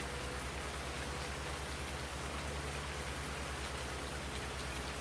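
Steady rain falls in Farming Simulator 19, an even, loud hiss of drops with no break across the stretch, accompanied by a faint low engine drone underneath.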